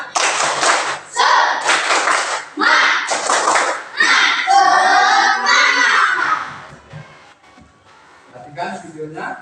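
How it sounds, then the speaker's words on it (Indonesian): Students in an Islamic religious education class perform a rhythmic spirit clap in short, loud bursts of synchronized claps with pauses between them, chanting along as they clap, before a teacher's voice takes over. "Ayo tepuk semangat dulu sekali lagi biar semangat."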